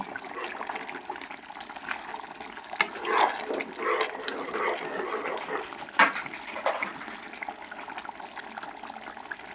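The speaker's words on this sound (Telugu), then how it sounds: "వాటర్ పోసాం కదా ఉడకటం స్టార్ట్ అయింది ఒకసారి తిప్పుకుందామని చెప్పి" Gongura chicken curry with added water bubbles in a pot and gets stirred, giving a continuous soft bubbling and simmering hiss with a few louder stirring swishes, close and without talk.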